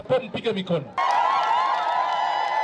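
Sustained applause from an audience at an official road and health centre inauguration ceremony, a dense steady wash of clapping that bursts in suddenly after a brief stretch of speech and holds loud to the end.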